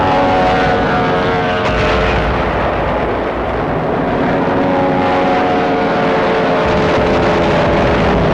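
WWII Japanese land-based fighter and bomber aircraft flying, a loud, steady propeller-engine drone that fills the whole stretch with no talk over it.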